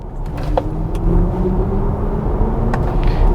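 A BMW iX3 electric SUV gives off its artificial Hans Zimmer-designed drive sound, a steady, loud synthetic hum with low rumbling tones and a few faint clicks, with no talking.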